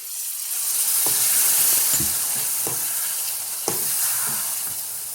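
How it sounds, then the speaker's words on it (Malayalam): Vinegar poured into hot Kerala-style fried fish pickle gravy sizzles steadily in the pan, a close, continuous frying hiss broken by a few soft stirring knocks, with no talking. "അപ്പം ഇതിലേക്ക് നമ്മൾ വിനാഗിരി ഒഴിക്കുക."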